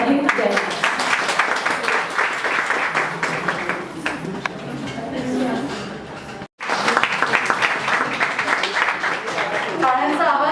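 Applause from an audience at a women's breast cancer awareness event in Maharashtra, dense steady clapping sustained throughout, briefly cutting out for an instant before resuming at full strength.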